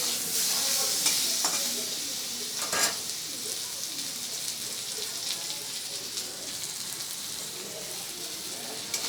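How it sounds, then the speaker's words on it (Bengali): Boiled chunks of elephant foot yam fry lightly in a pan, a steady close sizzle with stirring clatter and faint scraping throughout. "ওলগুলো এমনি একটু হালকা করে ভেজে নেব।"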